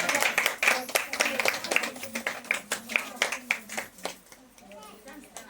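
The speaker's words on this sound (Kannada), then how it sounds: "ಎಲ್ಲರೂ ಜೋರಾದ ಚಪ್ಪಾಳೆ." An audience claps at a ward felicitation ceremony honoring a teacher, a burst of quick, uneven hand claps that thins toward the end, mixed with children's voices and chatter.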